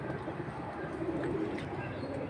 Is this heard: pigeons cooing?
yes